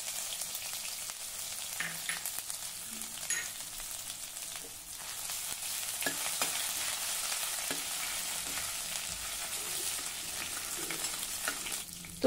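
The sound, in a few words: ginger and garlic frying in oil with mustard seeds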